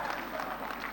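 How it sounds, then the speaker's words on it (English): Faint, distant applause in a parliamentary chamber, a soft continuous patter of many hands lasting about a second. "Let's give a round of applause."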